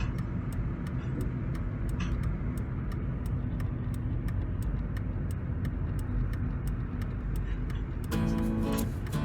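A car driving on a foggy road out of Gurgaon, a steady low engine and tyre rumble with a regular faint ticking throughout, and a brief brighter burst of noise near the end.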